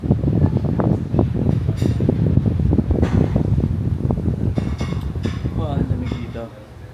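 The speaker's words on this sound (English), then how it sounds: "Palamig lang sa aircon." An air conditioner runs in a Makati hotel club lounge, a steady whooshing airflow under close, ongoing talk and clinking sounds.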